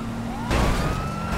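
Two police cars with sirens in GTA 5 give chase, their wailing tones rising and overlapping, with a loud burst of engine and impact noise midway under the steady sirens.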